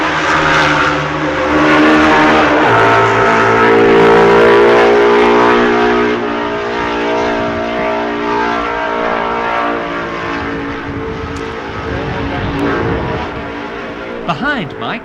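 Mike Hailwood's MV racing motorcycle at the 1965 Isle of Man TT runs with a loud, harmonic engine drone that shifts pitch as it passes near, heard alongside a commentator's voice.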